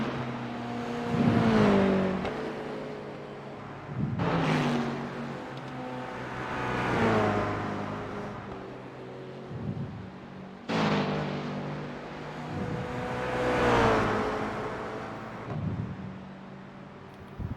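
Several race car engines in a video game roar in and sweep past one after another, each rising and falling in pitch as it approaches and passes.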